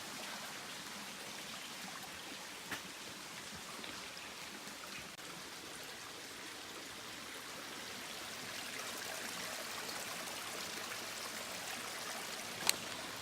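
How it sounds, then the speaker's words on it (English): Steady broadband rush of water from a creek flowing over a flooded hiking trail at Red River Gorge, continuous and fairly faint, with a couple of brief sharp ticks and no talk. "the trail is kind of a creek right now, so I'm trying to not get my shoes wet"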